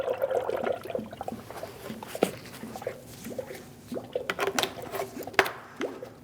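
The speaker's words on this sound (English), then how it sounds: "We're going to fill our reservoir." Coolant pours through a funnel into the reservoir of a 2016-2025 Chevrolet Malibu 1.5L L4 after a radiator replacement, giving soft gurgles, plops and patters of liquid, close and fairly quiet, with no talking.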